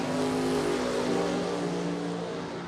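Ford Mustang drag car launching down a drag strip at a door car racing event, a loud sustained engine roar with steady harmonic tone that fades slightly as it pulls away, no speech.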